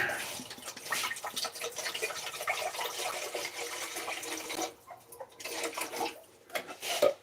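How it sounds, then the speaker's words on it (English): Water splashes and gurgles steadily into a container, close by and moderately quiet, with brief pauses near the end. "pour a little bit of water in here."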